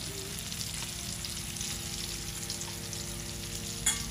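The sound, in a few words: food frying in a pan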